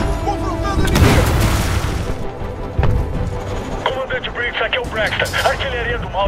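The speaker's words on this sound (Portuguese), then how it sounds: "Artilharia do mal." Artillery fire in Titanfall 2 rumbles in heavy booming blasts and crashes, loud and close, with dubbed Portuguese dialogue spoken over the later part.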